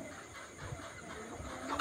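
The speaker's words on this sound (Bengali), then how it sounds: "অরিজিনাল মিশরি ফার্মে মুরগি" Egyptian Fayoumi chickens on a farm clucking faintly and briefly in the distance, a soft low murmur of hens with no voices.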